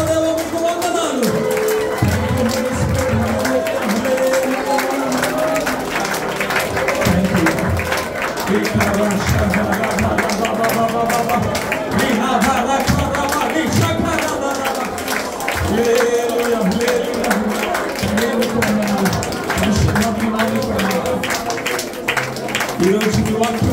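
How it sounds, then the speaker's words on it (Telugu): An apostolic church congregation in Abu Dhabi claps loudly and continuously through a dense, rhythmic wall of applause, with a voice and sustained tones running underneath. "గట్టిగా చప్పట్లు కొడదాం."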